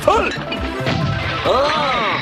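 A loud cannon-shell smash and crash rings out in a kitchen amid clattering impacts, with voices calling out over the noise.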